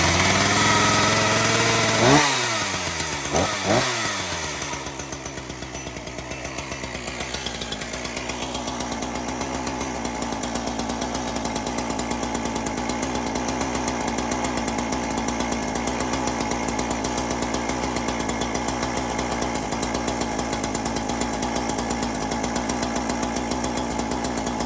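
A retired chainsaw pulled to a cold start on half choke after ten primer pumps: a couple of sharp pull-cord rips, then the engine catches and settles into a steady, loud running drone for the rest of the time.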